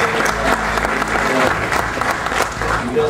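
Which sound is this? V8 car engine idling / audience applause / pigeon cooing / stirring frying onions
audience applause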